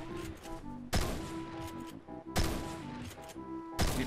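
Fortnite gunfire in an Arena match, three loud bursts of shots about a second and a half apart, with game sounds and tones between them.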